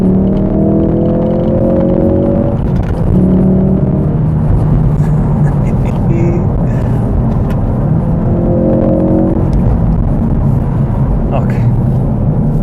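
Ford Focus RS being driven in normal mode, a constant low engine and road rumble heard from inside the car, with a voice now and then over the drone.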